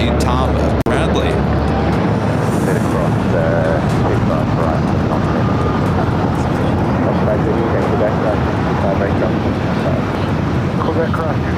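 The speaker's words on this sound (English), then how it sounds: "First of two Air New Zealand flights, both coming in from Auckland" Air New Zealand jet arriving at LAX from Auckland, a continuous broad engine roar with wind buffeting the microphone and a voice speaking over it.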